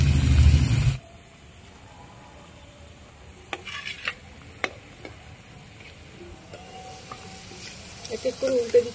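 Taal puli pitha, fried palm-fruit dumplings, cooking in hot oil, with a loud burst at the start and then a low steady sizzle broken by occasional sharp clicks and pops that grow busier toward the end.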